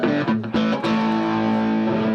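Sustained distorted electric guitar, a thick saturated chord ringing out loudly after a couple of quick picked attacks, with no voices.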